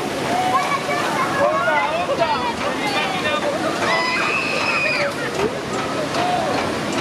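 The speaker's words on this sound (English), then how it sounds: "Here are the water sprays." Water sprays at an outdoor attraction in Minitalia Leolandia, Bergamo, Italy, give a steady hiss and slosh that runs through the whole stretch, with people talking and calling out over it.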